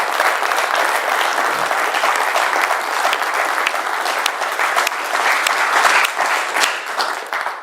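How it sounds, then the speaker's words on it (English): Loud, dense applause from the audience at an Alba Party Wee Blue Book roadshow meeting in East Lothian, continuous clapping sustained evenly for several seconds. "Give Kenny a big round of applause."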